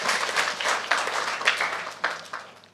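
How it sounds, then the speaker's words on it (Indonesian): A church congregation at a Sunday worship service bursts into applause for God, producing a dense, moderately loud wash of clapping with several stronger surges over a few seconds. "Berikan tepuk tangan kita untuk Tuhan kita."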